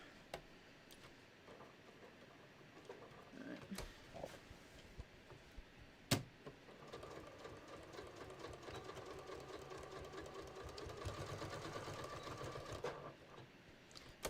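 A sewing machine stitches along the strap of a beach tote, its rapid even motor chatter running steadily through the middle and end, with a sharp click near the start and quieter handling before the stitching settles in.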